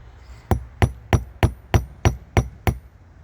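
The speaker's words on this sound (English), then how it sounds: "Kind of want to peen around." Eight evenly spaced, sharp hammer blows ring out close and loud while peening a rivet on a broken chainsaw chain being repaired by hand.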